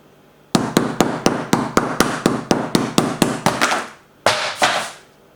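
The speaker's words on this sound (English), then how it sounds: "Now let's see what happens when we switch to the hooked edge of the hammer." Rapid, loud blows from the hooked edge of a hammer strike a Nokia Lumia 530 phone about three times a second, a dozen or so in a row, followed by a couple of final crunching hits.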